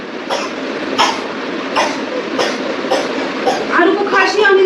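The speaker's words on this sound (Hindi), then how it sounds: "खांसी आने लगी कैसे?" A child coughs repeatedly in short bursts, roughly once a second, close by, with a voice speaking toward the end.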